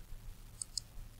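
A computer mouse is right-clicked while assembling parts in Autodesk Inventor. Two quick, crisp clicks come close together, faint and near, over a quiet room with no talking.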